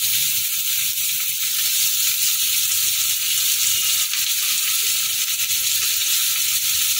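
Chopped onions sizzle and hiss steadily in hot oil while cooking a fish curry with potatoes and pointed gourd, a constant frying crackle with no voices.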